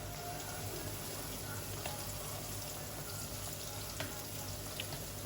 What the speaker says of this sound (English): So we have it on medium heat and we're just waiting for the seasoning to saute.